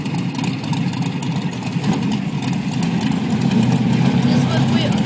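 A homemade V8-engine motorcycle with big wheels idling, a steady low rumbling engine throughout with a slight rise toward the end, while people talk over it.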